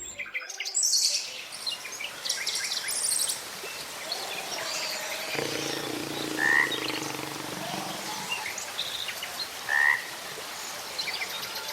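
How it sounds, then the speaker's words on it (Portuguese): Dense Amazon rainforest ambience: frogs croak steadily while birds chirp and call overhead, with occasional louder bird notes rising above the constant hum of wildlife. "Vamos ouvir o som produzido pela floresta amazônica, a maior do planeta?"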